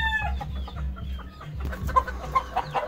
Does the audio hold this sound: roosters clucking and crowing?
yes